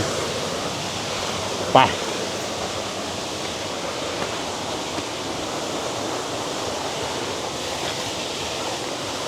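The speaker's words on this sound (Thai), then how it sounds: "ตอนนี้เราขึ้นมาถึง น้ำตกแล้วนะครับ" Waterfall at Chet Khot in Thailand, a steady broadband roar of falling water that fills the scene evenly throughout, with one brief sharp knock near the start.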